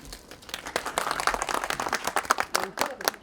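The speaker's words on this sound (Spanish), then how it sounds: "Quiero que recibamos con un fuerte aplauso a don José Victorino Lastarria." Scattered applause from an audience at a Spanish-language history presentation, claps irregular and uneven, moderately loud and close, lasting a few seconds.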